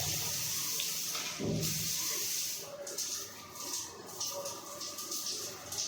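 Water from a newly installed bathroom shower set runs in a steady hissing spray, fairly close and continuous for several seconds, with small shifts in flow and no talk.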